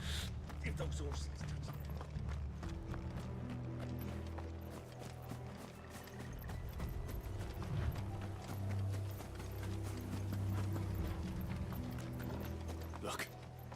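In the Final Fantasy XVI video game, horses' hooves clip-clop in a steady rhythm with creaking mechanisms beneath, moderately close, while voices talk over them and a loud rumbling bed runs underneath.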